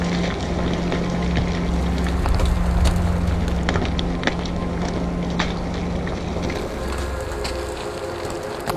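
Stormy wind blowing on a Karakoram mountain road in rain, a loud continuous roar of buffeting gusts against the microphone, with low rumble beneath and scattered sharp ticks throughout.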